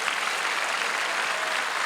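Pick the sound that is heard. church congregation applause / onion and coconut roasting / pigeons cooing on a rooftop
church congregation applause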